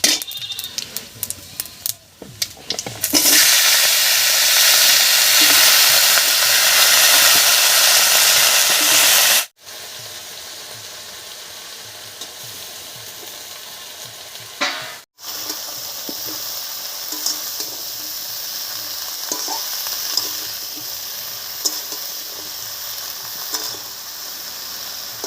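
Chopped bottle gourd greens hit hot oil tempered with whole cumin and a bay leaf, bursting into a loud, steady sizzle with occasional stirring scrapes, close and continuous with no voices.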